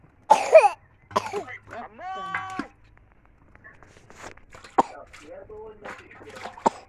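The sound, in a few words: coughing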